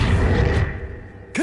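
An Accio summoning spell from Hogwarts Legacy, a brief bright swooshing magical whoosh that sweeps and fades, followed by a short rising tonal chirp at the end.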